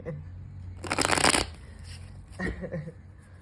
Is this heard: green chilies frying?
no